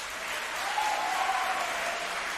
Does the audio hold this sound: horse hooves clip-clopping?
no